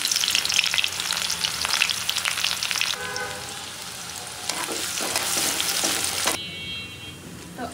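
Chopped onion frying in hot oil in a pan, a steady loud sizzle with crackling that dips briefly midway, then swells again before easing toward the end.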